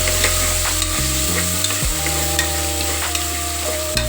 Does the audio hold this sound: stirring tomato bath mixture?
yes